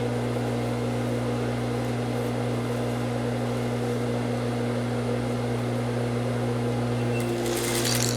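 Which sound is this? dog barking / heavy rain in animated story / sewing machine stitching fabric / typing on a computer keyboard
sewing machine stitching fabric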